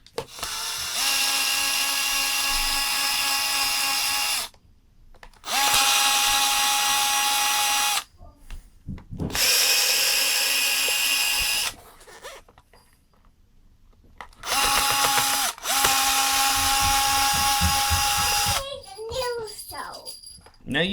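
A power driver unscrewing screws from a Makita JR3050T reciprocating saw during a teardown, four loud whirring bursts of a few seconds each with short pauses and handling noise between them.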